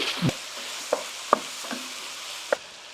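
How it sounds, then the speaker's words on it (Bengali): 500 grams of beef mince sizzles in a pan with soaked lentils for shami kebab, a steady frying hiss under sharp scrapes and knocks of a spoon stirring at irregular intervals. "আর এখানে আমি 500 গ্রাম গরুর মাংস কিমা দিচ্ছি।"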